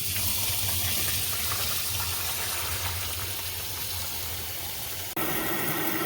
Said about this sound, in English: we're going to just rinse them off. Give them a quick rinse through